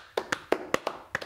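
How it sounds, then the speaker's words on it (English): A handful of sharp, close claps from two podcast hosts in a studio, six or seven quick separate smacks in a brief, loose rhythm with no voices over them. "I think it's time to give a round of applause"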